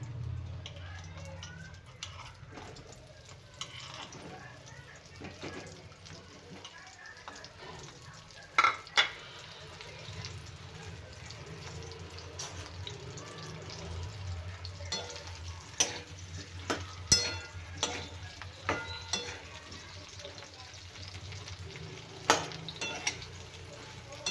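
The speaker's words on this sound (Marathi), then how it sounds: "आपल्याला त्याच्यामध्ये घालायची वांगी तर आपण तेलामध्ये छान त्याला भाजून घेऊया" Eggplant pieces frying in a kadhai of oil, a soft sizzle with intermittent clinks and scrapes of a ladle stirring them, close and quiet, with a voice talking over parts of it.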